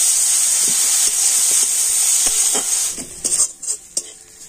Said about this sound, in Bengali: এখন আমি এই গাজরটা তেলের উপর একটু হালকা করে ভেজে নেব